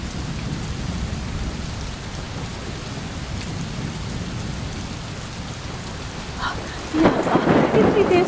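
Heavy rain pours steadily, with a burst of thunder cracking loudly near the end; no one speaks.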